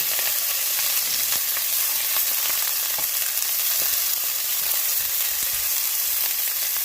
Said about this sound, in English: We just want to get a nice saute on these peppers here